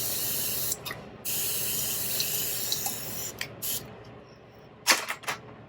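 Short bursts of spraying water onto hair, a few quick squirts separated by pauses, with a steady background hiss throughout.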